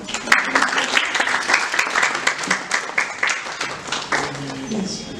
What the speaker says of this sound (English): Clapping for this girl.